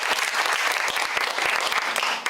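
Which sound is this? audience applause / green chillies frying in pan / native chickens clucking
audience applause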